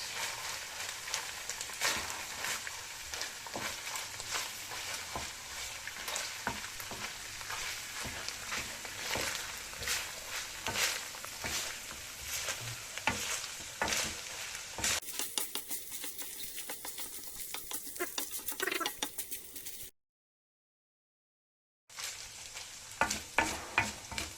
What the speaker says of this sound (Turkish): Şimdi kavurma faslına geçtik.